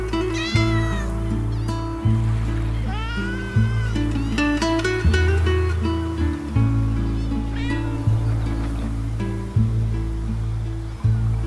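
Cats meowing near a harbor beach on Crete, several repeated close, loud meows over a steady low rumble of wind and surf.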